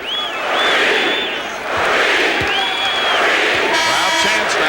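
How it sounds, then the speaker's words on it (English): Basketball arena crowd at the 1989 NBA Finals, Lakers against Pistons, chanting a player's name: loud, massed voices rise and fall in rhythmic, repeated swells. "Crowd chants now."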